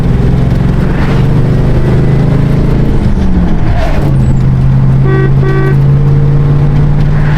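A high-horsepower Mustang race car engine, loud and steady with a deep continuous drone throughout and a brief pitch shift partway through, heard up close.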